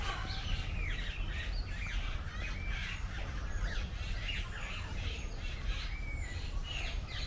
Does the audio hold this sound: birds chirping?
yes